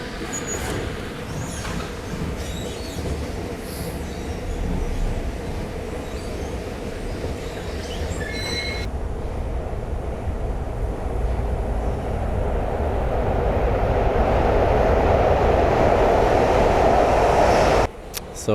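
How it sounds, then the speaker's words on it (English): A train passes close by near a station, a steady broadband rumble of wheels on rails that slowly grows louder over many seconds and then cuts off abruptly, with no voices over it. "I think I hear a train."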